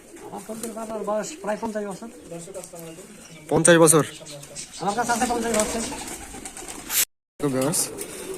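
Giribaz pigeons at a pigeon farm coo in repeated throaty, rolling calls, close and clear, with someone speaking over them at times and a short gap of silence near the end.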